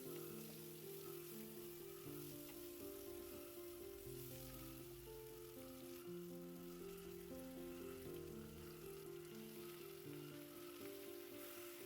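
Steady sizzling of onions sautéing with green chillies and curry leaves in a hot pan for chicken gravy, a constant crackle under soft background music.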